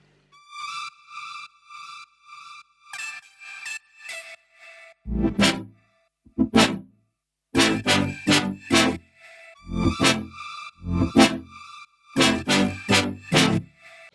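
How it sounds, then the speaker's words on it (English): Chopped vocal samples and synth plucks from an electronic track, short bright stabs in a bouncy stop-start rhythm with deeper punchy hits joining partway, loud and close, with no talking. "now I added some voice chops from Exhale and some plugs from Signal, and they sound like this."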